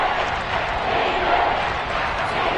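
A stadium crowd at a Jacksonville Jaguars football game roars as a big third down approaches, a dense, steady wash of cheering heard from a distance without a break.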